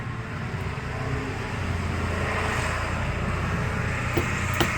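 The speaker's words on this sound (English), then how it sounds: "This diesel truck that you're about to hear go by." A heavy diesel truck engine rumbles steadily, building slightly in loudness as the truck rolls past, with a low drone throughout.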